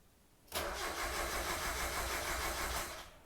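Mazda Miata (NA) engine after repair cranks and catches half a second in, then settles into a steady, even idle close to the microphone, with no speech.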